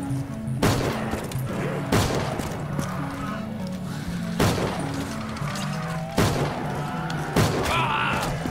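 Gunfire from a gun in a video game: five sharp, loud shots spaced roughly a second or more apart, each with a short decaying tail, over a faint background of game sounds.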